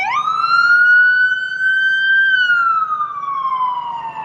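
A loud emergency siren wails nearby at Hudson Yards, New York, its pitch rising, holding steady, then slowly falling as the vehicle passes.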